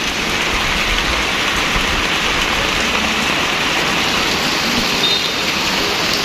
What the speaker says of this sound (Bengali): খুব বেশি পরিমাণ বৃষ্টি হচ্ছে